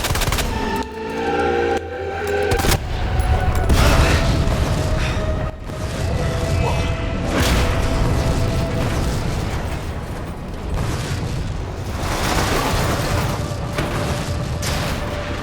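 Sustained heavy gunfire aimed at Mr. X in the Resident Evil 2 video game, a dense loud barrage of rapid shots and booms running almost nonstop, with brief gaps between bursts.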